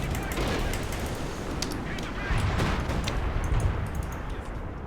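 Explosions in the World War II strategy game Company of Heroes 2 rumble through a steady wash of battle noise, with gunfire crackling around them at moderate volume. Speech runs over parts of it.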